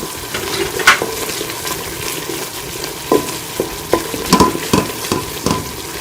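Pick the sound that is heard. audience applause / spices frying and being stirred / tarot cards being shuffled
spices frying and being stirred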